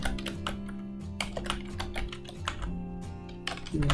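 Rapid typing on a computer keyboard while setting up online test questions, with close, crisp key clicks in quick irregular bursts and brief pauses between them, with no talking.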